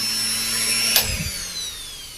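A Butterfly Pebble Plus mixer grinder's armature motor runs steadily on its own, a continuous whine with a brief knock or bump near the middle.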